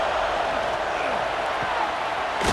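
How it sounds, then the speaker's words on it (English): Loud, roaring stadium crowd in College Football 26 cheering continuously in a dense wash of noise, with a burst at the end of the moment. "this crowd is fired up. Listen to this noise here."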